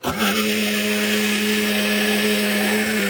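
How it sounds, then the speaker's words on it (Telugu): A mixer grinder whirs loudly and steadily right up close, grinding for an eggplant dish, a constant high motor drone with a steady hum throughout. "మిక్సీ పని అయిపోయింది"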